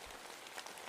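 Rain falls steadily in a dense, even patter of drops on surfaces, with no voices.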